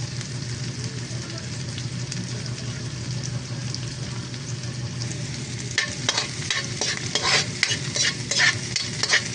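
Ginger and onion sauté in a hot pan, a loud continuous sizzle with stirring scrapes growing busier and more crackly in the second half.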